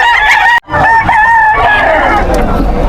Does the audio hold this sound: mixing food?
no